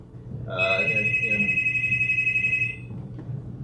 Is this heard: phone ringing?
yes